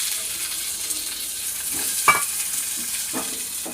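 Fried potato, green chili and tomato are stirred into a pan of suji with cashews and peanuts, giving a steady soft sizzle with a few scraping stirs of the spoon, close and alone.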